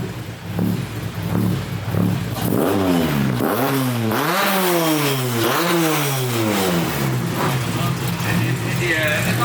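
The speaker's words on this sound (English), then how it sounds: "I rev it again." A K24-swapped Honda Civic engine revs repeatedly through its exhaust, each sweep climbing and falling in pitch, loud and close, with a voice talking over parts of it.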